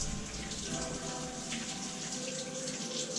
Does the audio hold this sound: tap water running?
yes